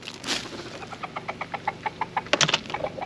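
Chickens cluck in a rapid, steady series of short calls close to the microphone, with a brief louder squawk near the end.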